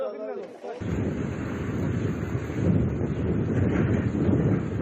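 Strong storm wind from a severe gale that tore off roofs and toppled trees in Afyonkarahisar, Turkey, buffeting the microphone as a loud, continuous roar that surges and gusts throughout after a brief opening moment.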